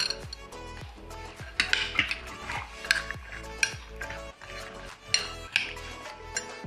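Cooked green peas, boiled with salt in a pressure cooker, tipped into a pan for an egg breakfast dish. A utensil gives a steady series of close metallic clinks and scrapes against the pan, with no voices.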